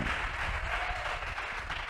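A church congregation applauding, a brief, dense, continuous wash of clapping from a crowd filling the room, steady in level throughout.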